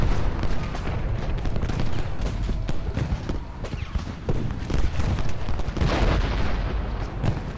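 Musket and artillery fire in the Civil War strategy game Ultimate General Gettysburg, a busy battle din of repeated bursts and booms with a clattering, hoof-like rhythm throughout.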